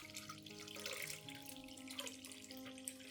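Clean water pours steadily into a container of plant solution being diluted, a soft continuous splashing and trickling, faint and close, with no voices.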